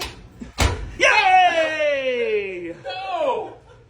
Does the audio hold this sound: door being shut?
yes